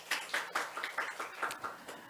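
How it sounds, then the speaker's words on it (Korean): A church congregation claps together in a steady, even rhythm, a string of about ten soft, fairly distant hand claps heard with no talking over them. "우리 하나님께 박수 올려드려요"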